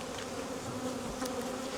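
Honeybees buzzing in a hive opened during an inspection of frames on plastic foundation, a steady, close, dense drone with no speech.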